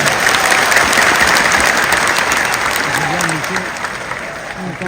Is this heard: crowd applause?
yes